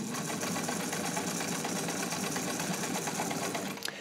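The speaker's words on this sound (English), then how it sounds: "I'll come over and I'll do a zigzag stitch for you guys." A pink Necchi BU Nora sewing machine, freshly restored and in mint condition, sews a wide zigzag stitch with a continuous, even, fast-running whir and a steady mechanical chatter close up, with no voices over it.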